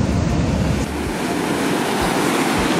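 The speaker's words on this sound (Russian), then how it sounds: "просто выживают в океане на волнах." Ocean surf rolls and crashes continuously where surfers paddle, a loud broad wash of breaking waves mixed with gusty wind noise on the microphone.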